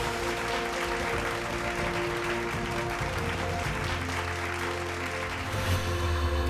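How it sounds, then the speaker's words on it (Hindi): Steady applause for best actress Akshara Singh at a Bhojpuri film awards ceremony, a continuous wash of clapping blended with sustained music tones throughout. "जोरदार तालियां अक्षरा सिंह के लिए"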